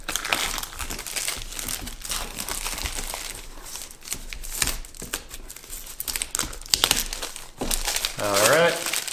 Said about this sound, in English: so let's get this plastic off and I'll show you again